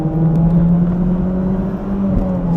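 A Toyota Celica GT4 engine pulls hard under acceleration, heard from inside the car as a loud, steady droning whir that holds a constant pitch throughout.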